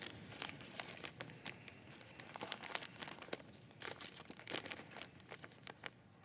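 Newspaper pages crinkle and rustle in a quiet room, a continuous soft crumpling with scattered sharper crackles.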